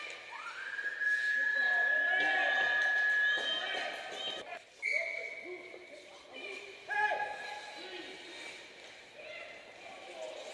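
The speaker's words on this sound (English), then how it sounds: "that's the sound of a shot clock in Manitoba" Basketball shot clock buzzer at a game in Manitoba: a sustained whistle-like electronic tone rings for about three seconds, followed by shorter tones amid a reverberant gym with squeaks and background voices.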